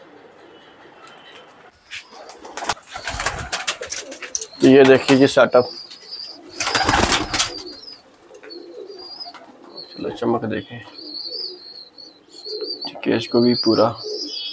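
Pigeons, including Dubwale and Teddy breeds kept in a cage setup at R.S. Pura, Jammu, give soft repeated coos and chirps in short bursts close by, while someone talks over them.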